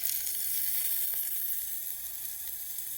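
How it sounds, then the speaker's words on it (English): Shrimp sizzling with garlic, shallot and onion in a pot, a dense, bright, continuous hiss held close and even throughout. "in my pot, I stir fry garlic, shallot, and onion until fragrant, and then I drop in my shrimp"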